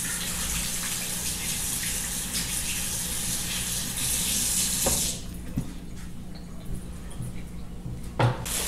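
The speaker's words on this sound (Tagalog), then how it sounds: "Kailangan bago umawak ng ulam o pagkain, hugas mo ng kamay." Tap water gushes loudly and steadily into a sink during handwashing, then cuts off abruptly about halfway through, leaving quieter room sounds with a few faint clinks.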